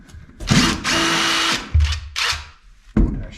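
Power drill at a tiny off-grid cabin plumbing job, several close whirring bursts of varying length stopping and restarting, with clunks between them.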